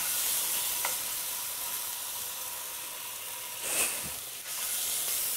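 A pork tenderloin searing in a hot pan makes a loud, steady hiss of sizzling fat, close up and continuous, with a brief swell of louder spitting midway.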